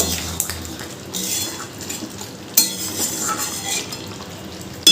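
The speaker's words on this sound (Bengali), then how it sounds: "ঢাকনাটা খুলে মাংসটা আবার একটু নেড়ে দেব।" Home-cooked desi chicken meat being stirred in a pot, a spoon scraping and knocking against the metal in a few sharp clinks over a soft background sizzle, fairly quiet and close.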